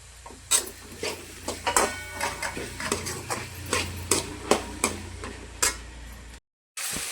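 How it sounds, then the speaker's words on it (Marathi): Tomatoes sautéing in oil in a pan for egg biryani, with a soft steady sizzle under a regular series of sharp spatula scrapes and taps, close and fairly quiet, ending in a brief silence. "टमाटर टाकते याच्यामध्ये, परतून घेते"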